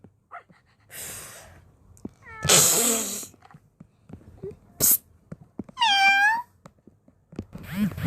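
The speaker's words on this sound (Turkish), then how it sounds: "O sadece bir kedi canavar değil." Several video-game cat meows ring out at intervals, some breathy and drawn out, one with a wavering rising-falling tone, separated by quiet gaps.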